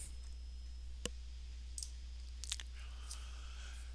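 A computer mouse clicks while a delivery date is picked in an online order form: a few sharp, isolated clicks spread over several seconds, close and quiet above a steady low hum.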